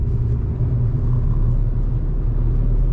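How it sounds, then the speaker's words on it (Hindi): A 2022 Maruti Celerio CNG hatchback revs in second gear and gives a steady, loud, low engine drone with road rumble from inside the cabin, holding an even pitch throughout. "दूसरे गियर में अगर आप थोड़ी सी रेस देते हैं तो हल्का सा एक लैग देके भाई गाड़ी उठ जाती है"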